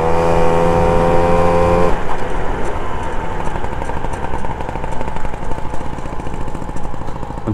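Motobécane 51V moped with an AV10 engine running close by, first a steady droning idle, then a rougher, rattling, uneven putter after a sudden shift in engine note.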